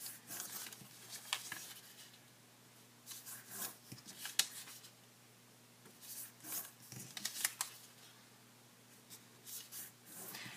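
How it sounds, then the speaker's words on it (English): Paper being folded for an origami heart cube, four corners creased into the center, giving soft crinkling rustles and brushing bursts that come and go close by over a low steady hum, with no voices. "go ahead and fold each of the 4 corners into the center"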